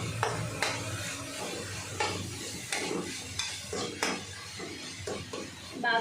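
Turmeric and other ingredients frying in a pan for dal charu, with clinking utensil stirs and scraping over a soft sizzle, close and busy throughout.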